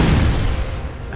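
A deep, booming rapid-fire weapon blast in the tank artillery game Shellshock Live, one loud rumbling burst that fades steadily over about a second.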